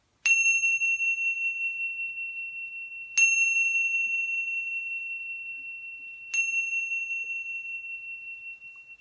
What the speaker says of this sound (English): we're going to do these little Tibetan bells